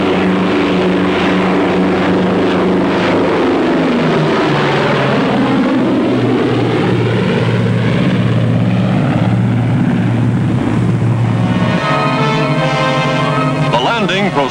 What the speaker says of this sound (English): fighter planes return to the carrier to refuel, rearm, and stand by to repel any new attack from the sky